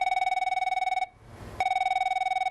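A telephone bell ringing at a business desk, a loud rapid trill that breaks off briefly mid-clip, then resumes.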